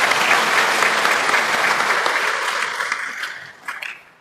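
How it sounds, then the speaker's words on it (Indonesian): Warm congregation applause at a Catholic confirmation service, a thick steady burst of clapping that tapers off toward the end, heard alone without talking. "Tepuk tangan untuk kita semua."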